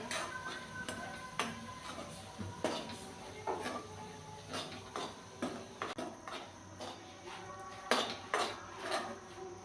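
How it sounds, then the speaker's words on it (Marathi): A spoon stirs and scrapes a pan of ukadiche modak filling made from ration rice flour and fresh grated coconut, giving irregular metallic clinks and scuffs at close range without speech. "मिश्रण हे घट्ट होईपर्यंत आपण याला चांगलं परतत राहायचं आहे"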